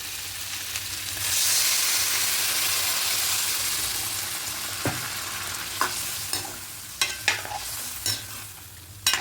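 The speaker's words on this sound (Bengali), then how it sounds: "দু তিন মিনিট ধরে একটু ভালো করে কষিয়ে নেব ভালো করে মশলা ভালো করে কষিয়ে নিয়েছি" Spices for a rohu fish curry with taro stems and potatoes sizzle steadily in a pan, with a burst of frying early on, then scattered scraping stirs and clinks as the masala is cooked down.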